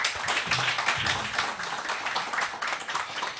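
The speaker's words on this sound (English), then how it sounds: "Can we please clap for him?" An audience at a conference event clapping for a speaker, dense steady applause of many hands close by, continuous and moderately loud without talk.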